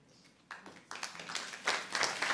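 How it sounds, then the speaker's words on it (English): An audience at a talk on ethics and climate change breaks into applause, starting faint and scattered and then swelling into quick, rising clapping over a couple of seconds. "They're clapping for you."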